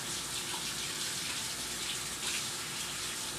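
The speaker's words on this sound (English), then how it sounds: "I'm rinsing off my tablespoon measuring thing. I don't want the glue to dry in there." Running tap water rinses glue from a tablespoon measuring spoon, a steady moderate splashing flow into a sink that stays unbroken throughout with no talking.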